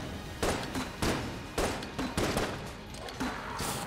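Grenades burst one after another against a boss in the twin-stick shooter Enter the Gungeon, a string of about six punchy thuds spaced roughly half a second apart, each with a short noisy decay.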